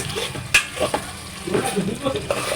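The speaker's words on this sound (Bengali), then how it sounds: "আমি এটা আরও বারবার এখন লাড়া দেবো খালি শুধু লাড়া দেবো" A spatula stirs kala bhuna meat frying in a pan, with repeated scraping strokes and knocks over a continuous close sizzle.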